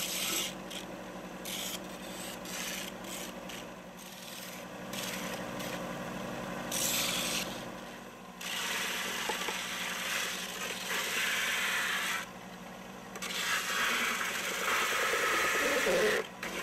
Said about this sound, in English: you can speed things up by using a belt sander.